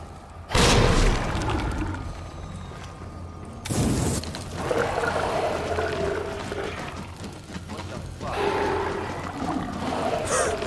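Grenade blasts in the game Resident Evil 2 Remake: two sharp, loud explosions a few seconds apart, each followed by rumbling debris and fiery crackle, with ongoing game noise between them.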